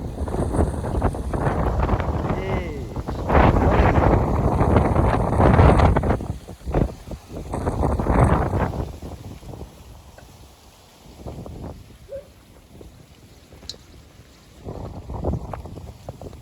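Strong wind gusts buffet the microphone in a rainy, overcast riverside village, roaring in loud surges that die down between blasts, with no talk.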